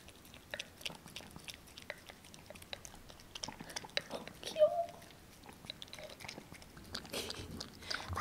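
Strawberries topped with ground strawberry ice cream are chewed close to the microphone, producing soft, wet, repeated bites and crunches at a quiet level, with occasional faint breathy sounds.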